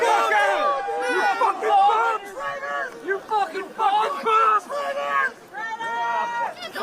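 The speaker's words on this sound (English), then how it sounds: "So it was a violent crowd." A violent crowd of Trump supporters yells and jeers in a bursty, loud wave of overlapping shouting voices with a few distinct cries poking through the babble.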